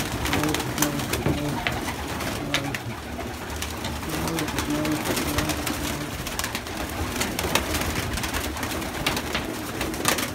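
Domestic pigeons coo steadily and close by in a loft or yard, a dense layered murmur of overlapping calls with scattered wing flaps and knocks and no clear talk.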